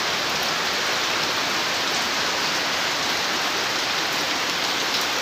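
Light rain falling outdoors at night, a dense, even hiss of drops on surfaces running steadily and fairly loud throughout, with no voices.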